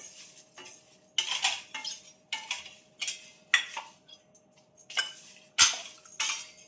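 Mutton masala spices dry-roasting in a pan, heard as a run of sharp, close scraping and clinking strokes of a metal spatula against the pan, irregular and separated by short quiet gaps, with no voices.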